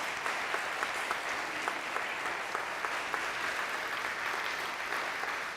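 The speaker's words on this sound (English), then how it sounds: "put your hands together again for Marietta" An audience at a Sunday church service applauds for a speaker, steady clapping from many hands, fairly faint and sustained, with no voices over it.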